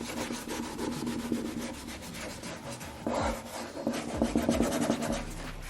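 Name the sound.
rag rubbing and burnishing a decor transfer on chalk paint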